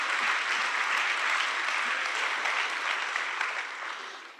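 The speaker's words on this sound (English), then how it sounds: "let's just take a moment and a quick round of applause" A seated audience at a Santa Fe Institute talk breaks into a steady round of applause, dense and continuous for several seconds before fading slightly at the end, with no talking over it.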